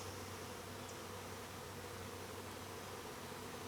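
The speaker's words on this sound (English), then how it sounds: "that is a good group of bees" A swarm of honeybees hums in a steady, dense drone near a bee trap, continuous and fairly close, with no talk.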